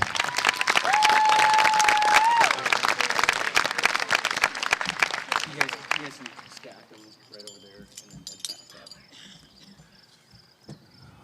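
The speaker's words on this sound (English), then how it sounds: "let's give one more round of applause for all these amazing speakers" Applause for the speakers at a junior/senior high school graduation ceremony, with vigorous crowd clapping for about six seconds before it thins to scattered claps and quieter room noise.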